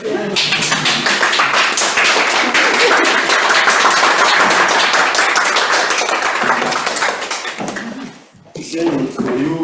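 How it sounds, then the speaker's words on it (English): An audience at a St. Petersburg club meeting gives the icebreaker speaker a loud, sustained round of applause, dense and steady claps that fade out near the end before a speaking voice returns. "give a round of applause to our icebreaker"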